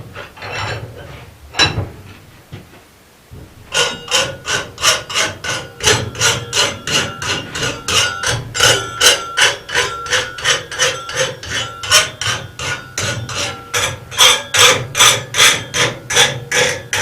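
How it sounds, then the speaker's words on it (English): A rasp is drawn over a forged metal latch body in brisk, regular strokes, each one a harsh scraping rasp, dozens in steady rhythm after a few scattered knocks at the start, close and loud with no speech. "Now I actually go to the hot and I hot rasp it, but it's actually rasped cold."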